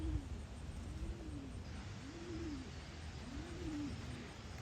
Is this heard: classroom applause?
no